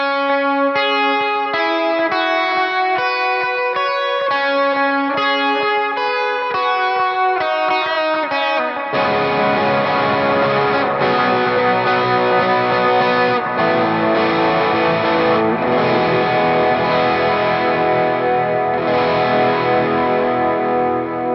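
Electric guitar played through the Helix Native amp modeler with its input gain turned down, a few picked clean notes giving way to a steady, dense driven tone with effects that rings on continuously and loudly, no talking.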